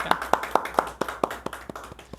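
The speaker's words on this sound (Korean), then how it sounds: "우리 같이 환영의 박수로 우리 나가겠습니다." A church congregation claps in welcome for a first-time visitor during Sunday worship, about ten sharp, evenly spaced claps in a steady rhythm, close and clear.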